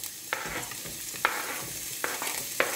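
Garlic sizzles in a frying pan for a penne and ground beef Tex-Mex dish, a steady low crackle broken by a few sharp utensil clicks and stirring scrapes, close and alone without talk.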